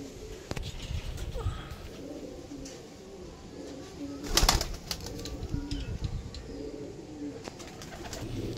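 A pair of Madrasi flying pigeons coo in low, soft, repeated calls, close by, with a brief flutter of wings midway and light background noise.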